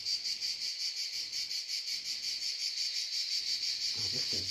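Cicadas buzzing outdoors in summer heat, a loud continuous high-pitched shrill pulsing steadily throughout, with faint low rumbles underneath.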